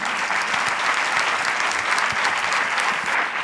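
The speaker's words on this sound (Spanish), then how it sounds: "Porque es para ti el aplauso" Audience applause at a conference, a steady dense wash of many hands clapping together, loud and even throughout with no voices on top.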